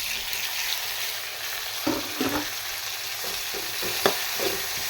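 Chopped onions and tomatoes sautéing in a pan, a continuous close sizzle broken by several soft scraping strokes of a spoon stirring, with no talking.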